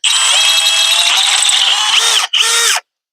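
A power drill bores a half-inch hole while a tractor self-leveling loader kit is being installed. It whines loudly and steadily at close range, cuts out briefly, then revs again before stopping.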